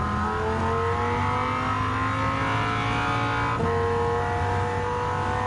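Race car in Gran Turismo 7, a high-power American sports car fitted with racing parts, holding a loud, steady engine drone that shifts pitch once partway through, close and continuous with no talking.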